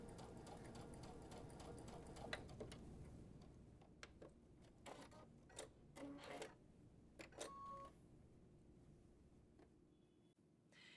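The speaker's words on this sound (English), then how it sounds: "lower my presser foot, start sewing, and make sure my guideline is staying in the corner here" A sewing machine stitches fabric binding with the presser foot lowered, a faint, steady mechanical whirr at first, then sparse soft ticks and clicks as the stitching slows.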